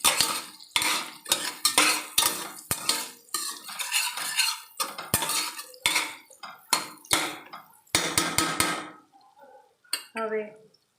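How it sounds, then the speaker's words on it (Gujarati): Spices stirred into mung dal khichdi in a pot, rhythmic close scraping and knocking of a spoon against metal in quick repeated strokes, ending with a few lighter clinks. "હવે આપણે બરાબર હલાવી દઈશું તેથી બધો જ મસાલો સરસ રીતે મિક્સ થઈ જાય."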